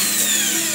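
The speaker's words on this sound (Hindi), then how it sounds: "इनको कट कर रहे हैं हम ड्रिल से" A power drill cuts into the tail section of a Bajaj Pulsar NS 200 motorcycle to make room for the number plate, giving a loud, steady high-pitched grinding whine up close.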